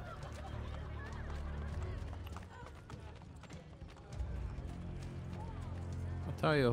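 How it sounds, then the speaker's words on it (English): Horse hooves clip-clop at a gallop in Assassin's Creed: Brotherhood, a steady rhythmic patter under game music and ambience, with a sharper sound rising at the end. "horses seem to be more of an inconvenience than a convenience in this game"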